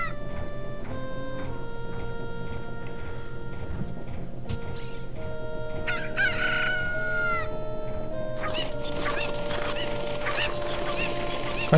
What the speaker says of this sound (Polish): Kończy się masowanym atakiem kuraków na nas.